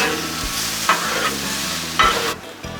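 Jerk shrimp and vegetables stir-frying on a Blackstone griddle, a steady loud sizzle with spatula scrapes and stirring clanks close by, no voices.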